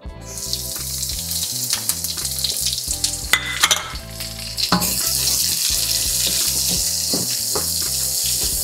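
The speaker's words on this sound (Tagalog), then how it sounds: "Tapos dito na rin tayo magigisa ng ating onion and garlic." Onion and garlic sautéing in rendered pork fat over low heat hiss and sizzle steadily, with clattering stirs from a utensil, the frying swelling louder partway through as the aromatics hit the pan.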